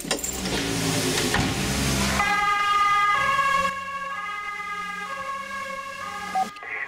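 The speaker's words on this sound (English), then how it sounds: "Oj, det är ett larm." A loud wailing ambulance siren cycles through its tones, then settles into a steady high pitched wail with a vehicle rumble beneath.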